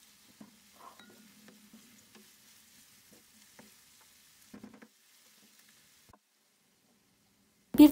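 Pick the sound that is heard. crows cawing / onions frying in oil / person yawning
onions frying in oil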